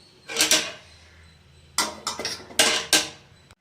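A blender jar is set down in a home kitchen while buttermilk is being made, giving several close, sharp clunks and clatters of hard containers, an early pair followed by a quicker cluster of knocks, with no talking.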